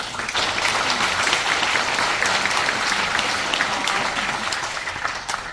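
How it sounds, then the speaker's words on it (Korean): An audience at a forum on revitalizing underground shopping arcades claps steadily. The dense, even applause holds at a constant level for about five seconds, with no talk over it. "네, 박수!"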